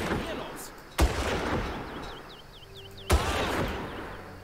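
Two sharp, loud gunshots about two seconds apart ring out in the video game Far Cry over game ambience and low background chatter, each with a brief echoing tail.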